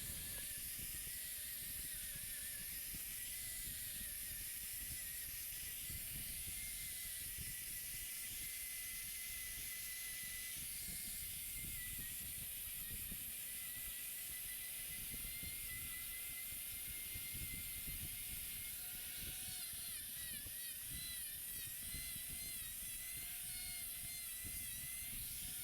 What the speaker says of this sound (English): Let's get the grinder out and shape this foot up.